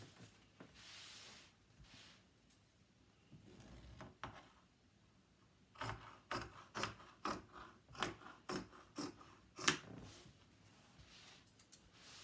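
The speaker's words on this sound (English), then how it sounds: "I am cutting a 1/2 inch beyond that chalk line to give me a 1/2 inch" Scissors cut upholstery fabric along a chalk line for a French country chair frill: soft rubbing and rustling at first, then a quick run of crisp, close snips in the second half, with no talking.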